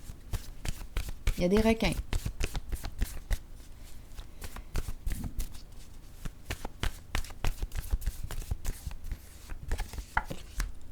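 Playing cards being shuffled and dealt, a steady run of quick crisp flicks and snaps close by, going on beneath people talking.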